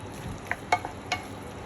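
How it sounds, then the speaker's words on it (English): Cavatelli pasta being stirred through sauce in a pan: a few soft, brief wet squelches and light scrapes over a quiet low background, spaced irregularly and heard close. "Keep stirring and mixing to expose more of that starch and suck up more of that delicious sauce."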